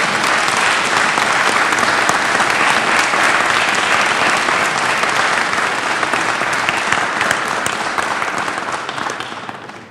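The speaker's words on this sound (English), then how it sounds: "give these legislators a round of applause" A crowd at a North Carolina bill event gives legislators loud, sustained applause, a thick wall of clapping that holds steady and begins to fade at the very end.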